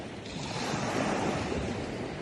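Sea surf breaking near rocks on a bay shore during a fishing trip, a steady broadband wash of waves with wind buffeting the microphone, continuous and fairly loud throughout.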